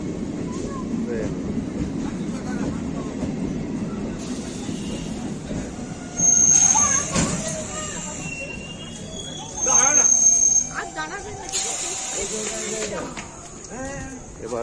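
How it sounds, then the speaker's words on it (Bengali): A passenger train pulls into a station on the line from Bishnupur toward Jayrambati, its wagons rumbling steadily with sharp wheel squeals rising twice over the rolling clatter, with voices around the platform. "ট্রেন ঢুকছে, বহু প্রতীক্ষার পর ট্রেন পেলাম সেই জয়রামবাটি যাওয়ার জন্য।"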